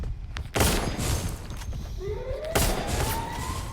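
Video game gunfire from an AK-style rifle, with loud sharp bursts at the start and again midway over constant game noise, plus a rising whistling tone.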